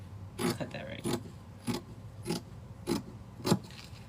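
Scissors cut through a paper pattern for a princess seam top in a series of five or six separate crisp snips spaced about half a second apart, quiet and close, with faint rustling between them.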